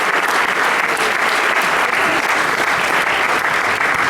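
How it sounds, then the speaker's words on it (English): Dense, sustained applause from a concert audience of a jazz band show, loud and continuous throughout with no gaps. "One more round of applause for all of our veterans."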